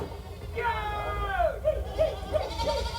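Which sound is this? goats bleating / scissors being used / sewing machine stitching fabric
goats bleating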